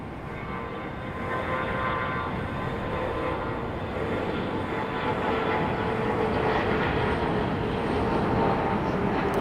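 Jet engines of a Southwest airliner on the far side of Raleigh-Durham International make a continuous broadband rumble with faint tonal whine, rising slightly toward the end, with no voices.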